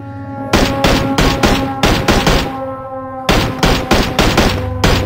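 Loud rapid bursts of automatic gunfire in PUBG in quick volleys, with a short pause in the middle before another sustained burst.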